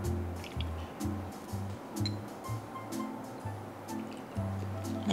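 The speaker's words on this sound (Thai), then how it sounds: "ขอเติมน้ำมะนาวกับน้ำปลาอีกหน่อยนะคะ" Lime juice and fish sauce are poured into a Thai dressing mixture, making soft liquid drips and splashes under steady background music.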